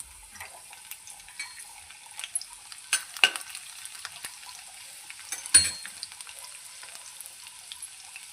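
Garlic cloves fry in a pan for a fenugreek dish, a soft, thin crackling sizzle in the background with a few sharper clinks of a utensil against the pan.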